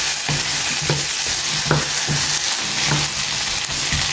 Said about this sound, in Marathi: 2 व्हडले पोटेटोज घालून दिता बरो मिक्स ऑन हाय फ्लेम